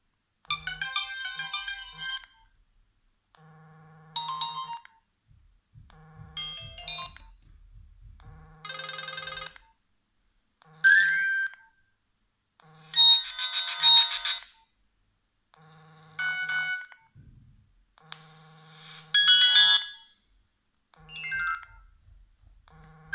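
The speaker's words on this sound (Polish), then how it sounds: "I to już wszystkie dźwięki tego telefonu." A mobile phone plays one ringtone after another through its small built-in speaker, a series of short electronic melodies and beeps separated by brief pauses, close and clear.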